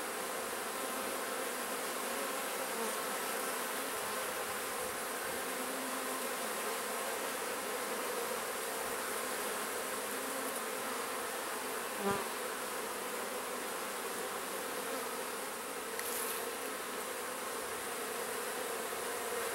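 Honey bees buzz in a continuous, even drone during a beehive inspection, with a dense swarm hum close by and one faint click partway through.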